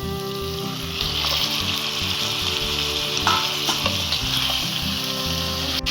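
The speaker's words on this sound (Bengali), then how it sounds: "মাংসটা দিয়ে আমি মশলাটা মাংসের মধ্যে ভালোভাবে মিশিয়ে নেব।" Meat sizzles in hot spice masala for a Murshidabadi dudhiya biryani, a loud, steady close-up frying hiss with scraping stirring strokes throughout.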